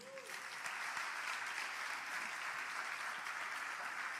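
Church congregation clapping in praise of Jesus, a dense, even roar of applause held at a steady level throughout, with a faint voice briefly sliding in at the start.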